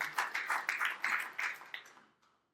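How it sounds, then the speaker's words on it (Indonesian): A church congregation claps hands together during a Sunday sermon, a brief burst of uneven claps that fades out after a couple of seconds, with no talking over it. "Berikan tepuk tangan bagi Tuhan."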